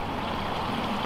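Water rushes over a small waterfall in a botanical garden in Bellevue, Washington, a steady broadband flowing hiss with no speech.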